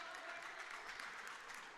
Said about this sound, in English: She's applauded off the floor.